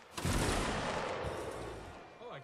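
Reenactors fire a musket volley from a line, a loud booming blast of overlapping shots that rolls and fades, with a voice calling out near the end.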